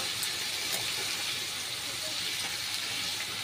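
A pot of dalia khichuri made from broken wheat simmers, giving a steady, broadband steamy hiss with faint bubbling that holds evenly throughout, close by and uninterrupted.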